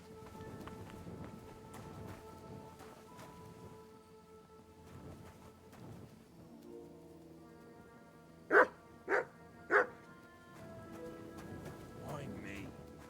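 A dog barks three times in quick succession in Kingdom Come Deliverance 2, loud and close, set against game music and a person talking before and after.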